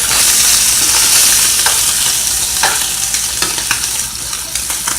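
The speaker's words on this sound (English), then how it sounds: "I'm going to add that to it and fry that." Spam fries in a pan for fried rice, a loud, close steady sizzle with intermittent scraping stirs of a utensil against the pan.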